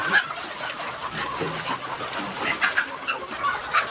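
Chickens cluck in short, soft bursts at a poultry farm, scattered and fairly faint over a noisy outdoor background with no clear talk.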